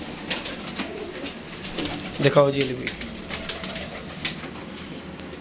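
White pigeons give a brief cooing call among faint background noise, with someone speaking over them.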